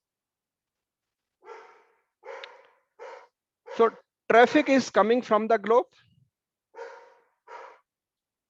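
A dog barks in the background, several separate short woofs at a distance, with someone talking during the middle part.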